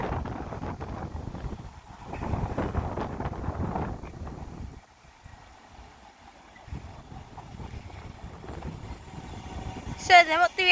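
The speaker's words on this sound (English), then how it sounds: "Now arriving in is going to be the 1539 Avanti West Coast service to Glasgow Central from London Euston with a Class 390 Pendolino." An Avanti West Coast Class 390 Pendolino, London Euston to Glasgow Central, pulls into Wigan North Western, a low rumble with wind buffeting on the microphone, rising and falling, and a sharp squeal of brakes at the end, with someone talking over it.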